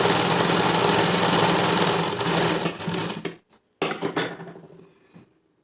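Sewing machine top-stitching fabric beside a zipper, a loud continuous mechanical whir for about three seconds that slows and stutters, stops briefly, then runs again in short bursts before fading.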